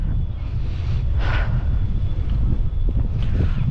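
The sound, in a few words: strong wind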